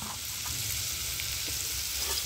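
Potatoes fry in hot oil in a wok, giving a steady, close, dense sizzle that holds level throughout with no voices.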